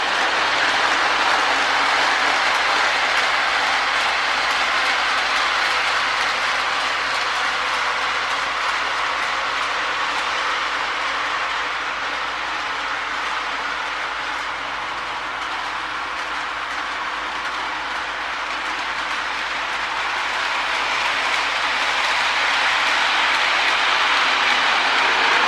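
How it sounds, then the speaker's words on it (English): A Marx E7 Great Northern Empire Builder model train rolls past close by, a continuous rumbling whir with clicking wheels that swells, dips slightly midway as it passes, then rises again, with no voices. "Let the train pass"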